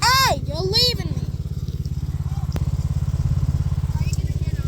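A child's ride-on car runs with a steady rapid motor chatter, close and loud, after a brief high-pitched voice at the start.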